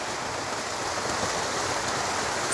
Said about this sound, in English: The sound of a waterfall.